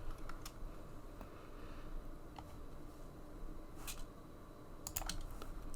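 Faint keyboard clicks tap intermittently, a few soft keystrokes over quiet background hiss.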